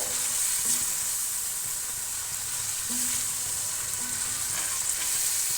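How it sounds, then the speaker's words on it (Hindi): Chicken white karahi with cream cooking in a pan: a continuous close sizzle and bubbling fry with faint stirring scrapes now and then, no talking. "अभी करीम के साथ मैंने इसको मिक्स कर लेना है और 1 से 2 मिनट मैंने इसकी करीम के साथ बुनाई करनी है।"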